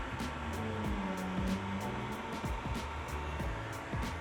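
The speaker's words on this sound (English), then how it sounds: "And the heat gun?" A heat gun blows hot air onto car window tint, a steady broadband whoosh with faint periodic clicks and hum running throughout, fairly close and alone.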